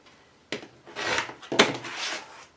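Fabric for a Christmas tree quilt block being trimmed, heard as a few close, short scraping and rasping strokes, a sharp tap, then a couple of longer rubbing passes.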